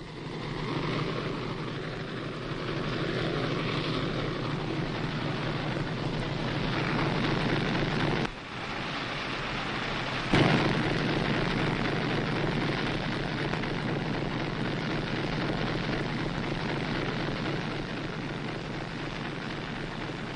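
Engines roar steadily inside the 1500-tonne French submarine Casabianca, a dense, unbroken mechanical drone lasting throughout, with one brief dip and a sharp knock midway.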